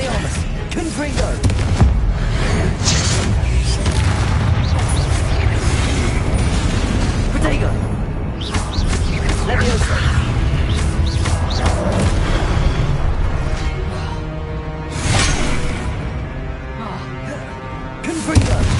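A Confringo spell in a Harry Potter video game sets off booming explosions amid a busy battle, with repeated bursts, crackling effects and voices throughout.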